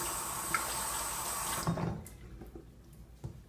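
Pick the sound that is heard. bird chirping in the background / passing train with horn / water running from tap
water running from tap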